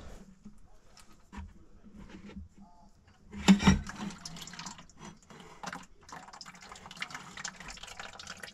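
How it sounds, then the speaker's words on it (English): Fluid drains from a tractor filter into a bucket, a soft trickling and dripping with a louder splashy gush partway through, then a steady low pour continuing near and alone. "put a bucket underneath here and hold it, and see if you can drain it all out"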